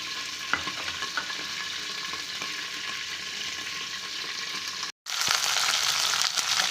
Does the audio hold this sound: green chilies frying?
yes